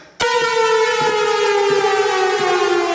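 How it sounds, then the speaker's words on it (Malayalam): A work siren blares on abruptly and holds one loud, steady, droning wail for several seconds without any break. "8 മണിയാകാതെ സൈറൻ അടിക്കാതെ ഞാൻ പണിയുന്ന പ്രശ്നമില്ല."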